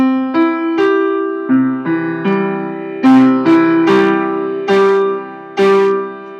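Piano notes of the folk song Muss i denn played one after another with the sustain pedal down, each tone ringing on and blending into the next, clear and close.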